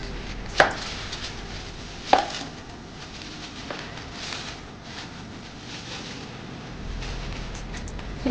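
Onion being chopped on a board for a simple sardine and sautéed vegetable dish, a few sharp isolated knife knocks spaced seconds apart over low room noise, with no talk.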